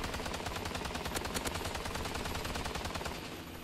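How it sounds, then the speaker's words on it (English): Automatic machine gun firing in the video game Call of Duty: Advanced Warfare, a continuous rapid stream of loud, dense shots that runs without a break and tails off slightly at the end. "Oh man, this is an auto machine gun?"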